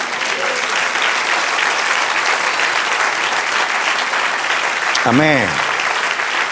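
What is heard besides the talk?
applause in church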